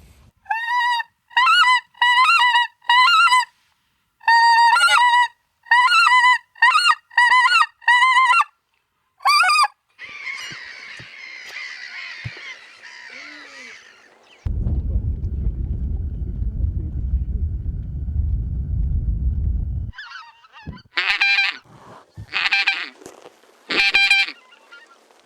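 White-fronted geese in spring wetlands in Yakutia, Siberia, give loud, repeated honking calls in quick rhythmic bursts, then a stretch of low rumbling wind before more sharp honks return near the end.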